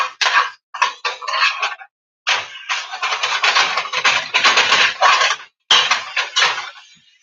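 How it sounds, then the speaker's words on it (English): Bacon, partly thawed, fries in a pan with loud, close crackling and sizzling that comes in dense bursts separated by short silent gaps. No one talks. "I'm sure you can hear it frying in the pan."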